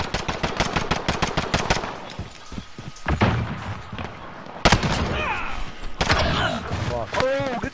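Rapid automatic gunfire from a gun in Call of Duty rattles in fast loud bursts, then breaks into separate heavy shots and further volleys, close and dominant, with a voice talking in places.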